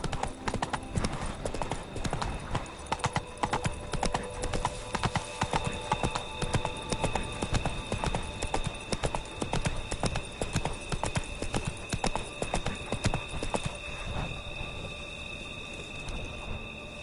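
Hooves of a horse clip-clop in a steady rapid gallop throughout, loud and close, in The Witcher 3 video game, with faint background music and ambient tones underneath.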